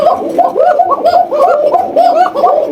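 Several pigeons coo loudly and close up, their rolling, overlapping calls filling the space in quick succession.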